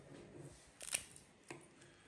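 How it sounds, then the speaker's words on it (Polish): Two quick, crisp snips of sharp scissors close by, cutting the fins off a carp, with a short pause between them, in a quiet room. "Najlepiej ostre nożyczki."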